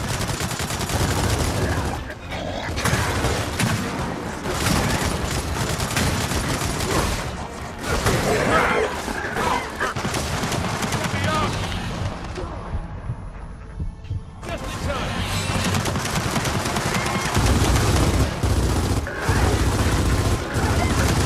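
Turret gunfire in Gears of War, a dense continuous rattle of heavy automatic fire with booming low thuds, loud and sustained, briefly dropping away before resuming with more bursts.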